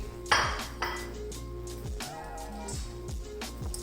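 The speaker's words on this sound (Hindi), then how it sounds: "सारी डालने के बाद इसको अच्छी तरह एक दफ़ा मैं मिक्स कर लूँगी" A spoon stirs quail karahi in a metal cooking pot, giving a couple of sharp clanging pings followed by lighter scraping and clinking against the pot, with no talking.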